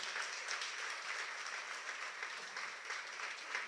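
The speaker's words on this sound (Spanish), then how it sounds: "te damos un fuerte aplauso de bienvenida" A church congregation gives a welcoming round of applause during a worship service, steady clapping from many hands heard at a moderate distance without speech.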